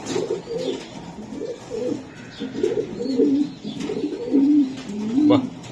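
Racing pigeons cooing repeatedly in soft, rolling low calls, close by and fairly steady, with faint background noise and no clear speech.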